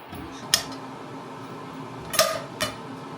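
Metal cookware clanks a few times as a pot is set down and shifted, with light knocks over a faint background hum.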